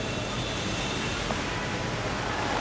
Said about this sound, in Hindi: दिल्ली में तेज बारिश हो रही है